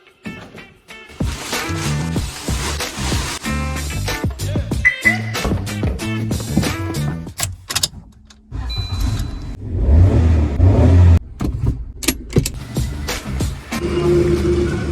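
Maruti Wagon R car engine runs while driving, a steady mid-pitched hum with shifting revs and bumps throughout, loud and close, with no talking.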